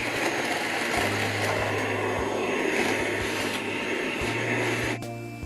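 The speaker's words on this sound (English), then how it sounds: "I'll give it a vacuum as well." A vacuum cleaner runs steadily, loud and close, with a constant whining roar as it cleans loose material off model railway scenery, then cuts down near the end.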